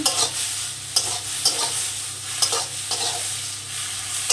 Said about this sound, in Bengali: চিংড়ি মাছটা আমি একটু ভেজে নেব